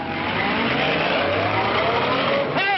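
A car drives off in a 1942 Western film set near Santa Fe. Its engine runs as a continuous rumble, and a brief rising whine near the end could be tire squeal or a voice.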